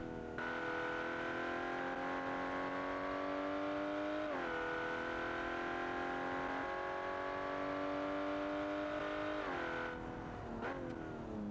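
A cheaply built sports car designed in Automation is driven flat out in BeamNG, its engine holding a loud, steady high-revving whine that dips and climbs again at gear changes, with no talk over it.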